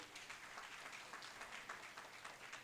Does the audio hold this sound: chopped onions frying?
no